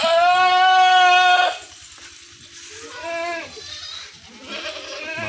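A female goat held for sale bleats loudly and close for over a second, followed by two shorter, quieter wavering bleats, with low background noise between calls.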